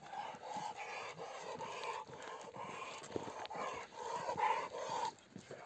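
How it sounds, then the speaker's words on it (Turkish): Two Alabai shepherd dogs bark at each other in repeated rough bursts, fairly close, with steady outdoor noise between the barks. "Bu iki köpek baktığınız zaman birbirlerine havlıyorlar"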